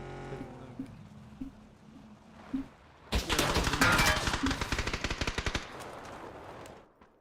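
Rapid automatic gunfire in the battle royale game PUBG erupts after a quieter stretch, a dense burst of closely spaced shots lasting a few seconds, loud and near, then tapering off into lingering game ambience.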